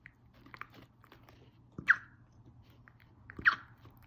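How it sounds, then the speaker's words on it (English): A nine-week-old Cardigan Corgi puppy gnawing a chew bone, with soft quiet chewing and two sharper crunching bites spaced apart, close by in a calm room. "Do you love your chew bone?"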